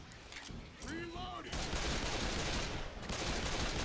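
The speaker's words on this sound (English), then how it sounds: "I'm freaking spamming this sniper right now" Gunfire in Left 4 Dead 2, loud dense bursts of sniper rifle shots firing in quick succession, with a short voice-like tone early on before continuous shooting fills the rest.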